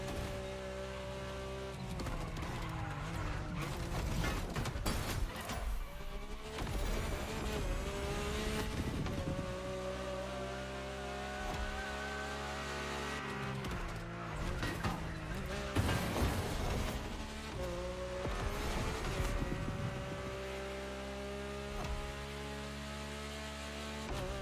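A Ferrari race car engine in The Crew Motorfest roars steadily and loudly throughout, with shifting revs, rising pitch and brief tire squeals, no talk heard.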